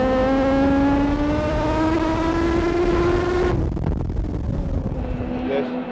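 A Norton race motorcycle, ridden by Trevor Nation through Ramsey at the 1991 Isle of Man TT, screams loudly close by with its engine note rising steadily, then cuts off abruptly as it passes and fades into a quieter background.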